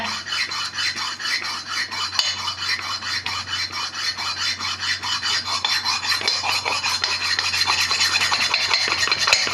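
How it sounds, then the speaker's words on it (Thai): A knife-sharpening stone rasps back and forth against an engine cylinder bore in steady, close strokes, the gritty scraping growing slightly louder as it continues. "อันนี้ ขัดให้ดูนะเสื้อสูบตามนี้นะครับทุกท่าน"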